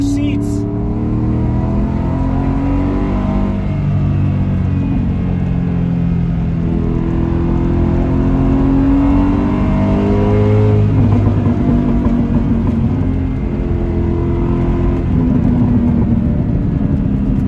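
A solid rear axle car with a Panhard bar drives along, its engine revving up and down in rising and falling sweeps, loud and close, heard from inside.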